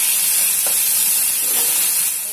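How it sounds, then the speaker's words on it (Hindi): Onions and green masala fry in a pan on the stove, giving a continuous loud, bright sizzle and hiss throughout with no talking. "हरा मसाले को भी 1 मिनट अच्छे से प्याज के साथ मिक्स करके भून कर लेंगे"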